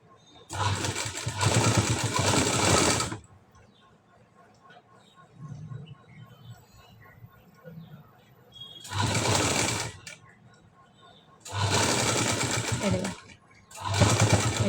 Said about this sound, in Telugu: ఇలా ఒక స్టిచ్ అనేది వేసుకుంటే మనకు పైపింగ్ అనేది నీట్గా కనిపిస్తుందండి.